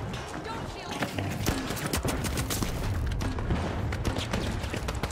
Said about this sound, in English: Somebody's getting shredded by my turret